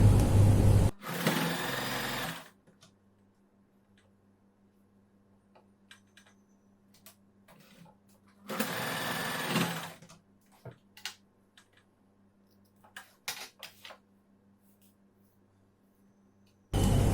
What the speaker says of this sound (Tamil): இந்த ஷோல்டர் ஜாயின் பார்த்தீங்கன்னா 2 டைம் அது மாதிரி நம்ம வந்து ஸ்டிச் பண்ணிக்கலாம்